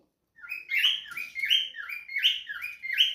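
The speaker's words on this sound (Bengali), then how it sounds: "ককারের পাখির ডাক কিন্তু খুব সুন্দর লাগে মধুর লাগে" Pet cockatiels call in a close, repeated series of bright, slightly raspy whistled chirps, roughly two per second, rising and falling in a steady rhythm with no talk.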